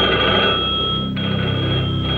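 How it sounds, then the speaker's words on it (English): A telephone rings loudly and without a break, a steady electric bell waking cabinet members in Delhi just after midnight. It plays alone, with no voices. "members of Indira Gandhi's cabinet were woken up by a phone call"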